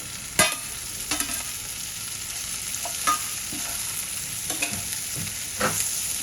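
Paneer and vegetables for navratan pulao, seasoned with garam masala and salt, sautéing in a pan: a steady bright sizzle with several sharp spatula scrapes and clacks at irregular intervals, close and alone.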